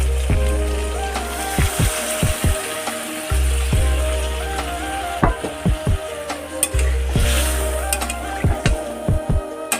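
Chicken frying in a pan, with liquid hissing in and bursts of stirring and scraping clatter against the pan over a steady close sizzle. No voices.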